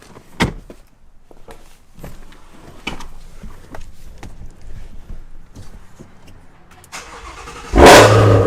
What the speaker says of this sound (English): Cold start on the world's dirtiest GT350.